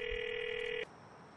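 A telephone in Grand Theft Auto IV rings with a single steady electronic tone lasting under a second, then cuts off to faint background; no voices.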